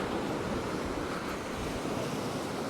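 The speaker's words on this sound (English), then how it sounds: "let's have a quick last look at the sea before we go" Sea waves break steadily on a shore, a loud, continuous wash of surf mixed with wind buffeting the microphone, with no voices.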